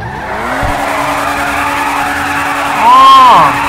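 A modified car in GTA V revs close by, its engine droning steadily, then its tires give a brief rising squeal near the end.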